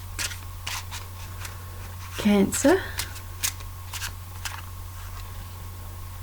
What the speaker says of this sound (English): So let me just shuffle these.